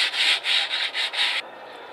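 Rhythmic hand sanding with 150-grit sandpaper to scuff up a surface on a truck part, five steady back-and-forth rubbing strokes close by, then it stops.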